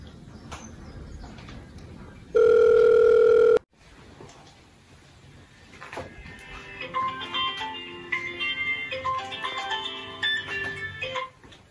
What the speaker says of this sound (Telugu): దోస్తానికి అయితే ఫోన్ చేద్దాం